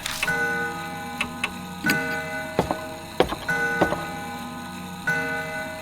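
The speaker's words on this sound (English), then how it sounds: "It's an antique grandfather clock." An antique grandfather clock in the Death Mark video game ticks steadily and clearly, with irregular resonant tocks ringing out over a faint ambient hum, no voices.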